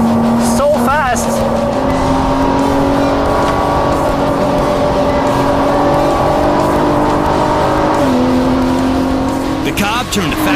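Cobb GTR race car lapping a track, engine droning loud and steady at near-constant pitch with brief shifts and tire noise as it pulls through corners; someone talks over it.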